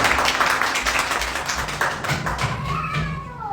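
Church congregation applauding Jesus after a psalm is sung: a loud, dense run of claps and taps with a low thumping undertone, and a sustained tonal voice or instrument rising near the end.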